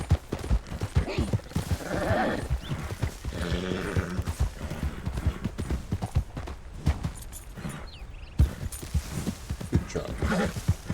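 Horse hoofbeats pounding along in a Red Dead Redemption 2 roleplay game, a steady rapid clip-clop running throughout under game sounds and dense talk.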